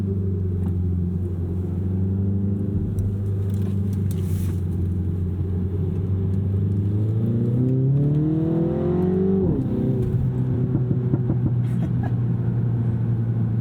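A Mini Cooper S engine idles with a steady low drone, then revs up, its pitch climbing for a few seconds before dropping sharply back to idle.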